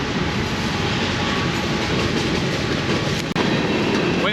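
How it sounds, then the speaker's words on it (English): Long train rolling past close by as a steady, loud, broadband rumble with a continuous rattle, holding even throughout and briefly interrupted by a single sharp knock near the end. "And here comes a train now."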